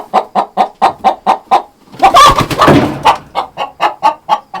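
Laying hens in a coop cluck in a steady, evenly spaced series close to the microphone, broken midway by a louder, longer squawking call before the rhythmic clucking resumes.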